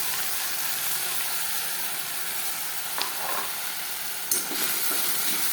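Chicken masala of ginger, garlic, onion and tomato sautéing in a pan for chicken kosha, a soft steady sizzle with a couple of brief utensil clicks against the pan.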